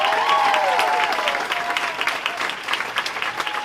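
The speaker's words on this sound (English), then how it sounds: "Please give a big round of applause." Audience applause greets comedian Mariah Anglin at a stand-up show, dense steady clapping with some cheering and whoops at the start, then continuing and thinning slightly.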